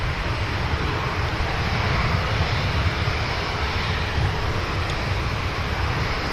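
A Dreamliner airliner sits on the runway at Manchester Airport, its engines giving off a steady, loud broadband roar with a low rumble beneath it, unbroken and alone.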